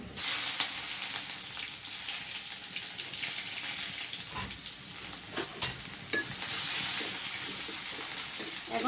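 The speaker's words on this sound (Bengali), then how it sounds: "পেঁয়াজ কিছুটাকে হালকা করে ভেজে নেব বেশি না হালকা করে" Cumin and chopped onion frying in hot oil, a steady close sizzle with occasional stirring scrapes and a few louder crackles throughout.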